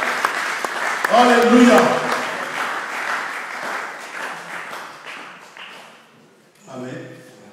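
A church congregation bursts into loud clapping and acclamation that swells and then gradually fades, while a voice calls out over the crowd.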